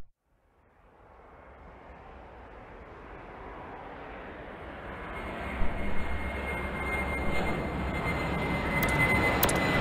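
An airplane in Airport Madness World Edition at Dubai takes off, its jet engine roar building steadily from near silence into a loud, broad rushing drone that keeps growing to the end.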